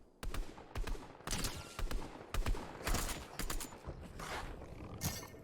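Rapid bursts of shotgun and other gunfire in the Fortnite Zero Build game, a dense run of sharp loud blasts and cracks filling the whole stretch with hardly a pause.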